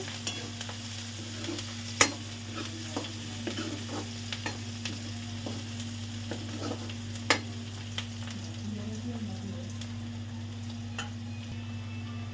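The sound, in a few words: onions frying in a pan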